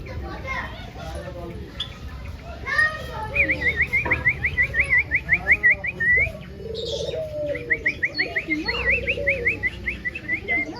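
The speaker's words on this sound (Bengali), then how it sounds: "এগুলো পায়রা।" Pigeons at a small zoo, their cooing and soft calls mixed with other caged birds' chirps and trilling calls, heard under close conversation and children's voices.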